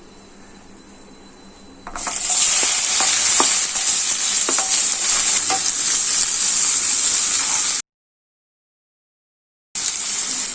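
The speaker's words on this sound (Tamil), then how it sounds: "இந்த ஆனியன் கொஞ்சம் நல்லா பிரவுன் கலரா சேஞ்ச் ஆகிற வரைக்கும் வதக்கணுங்க." Long-sliced onions sautéing in oil for vermicelli biryani: a loud, dense, steady sizzle starts abruptly after a quieter moment, with small stirring clicks, then cuts out to silence before resuming.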